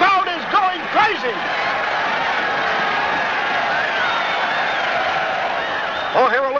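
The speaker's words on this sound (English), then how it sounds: "This crowd is going crazy." Baseball stadium crowd in Brooklyn roaring and cheering wildly during a close game against St. Louis, a dense sustained wall of voices with a man's speech at the start and end.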